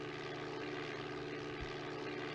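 A propeller airplane engine drones steadily in a flight simulator game, a constant low hum with faint harmonic tones, moderate and unchanging throughout, with no voices.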